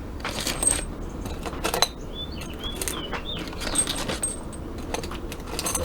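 Loose new metal bolts, nuts and washers for a motorized beach cruiser bike clinking and rattling together in bright, scattered jangles, close and continuous.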